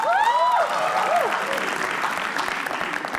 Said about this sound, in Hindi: तालियां एक बार प्लीज